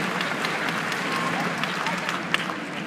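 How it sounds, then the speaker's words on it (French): Audience applause at a Nice sports awards ceremony, a dense steady wash of clapping that holds evenly for the whole stretch with no voices breaking through. "Je demande de l'applaudir"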